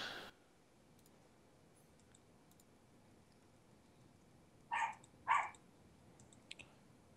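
A dog indoors gives two short, sharp barks close together, loud against an otherwise quiet room with faint clicks.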